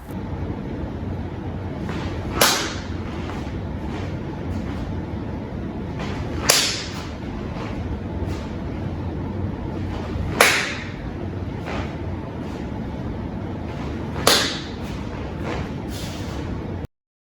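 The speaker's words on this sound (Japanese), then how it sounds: "腕をまっすぐ前に伸ばして手のひらを蹴ります。 この時パチンといい音が出れば良いフォームだという目安になります。" Taekwondo kicks slap an outstretched palm, four sharp, crisp smacks spaced several seconds apart over a steady windy background.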